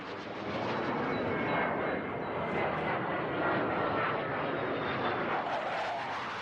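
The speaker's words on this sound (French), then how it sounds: "subit depuis toujours les passages incessants des avions de l'armée" A military airplane passes low over open countryside, its engine roar building and swelling into a broad, heavy rumble that stays loud throughout and eases slightly toward the end, with no one talking.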